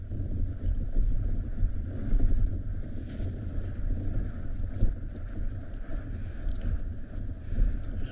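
Strong wind buffets the microphone on an open safari plain during a sunset game drive, a steady low roar with gusty swells throughout and no voices.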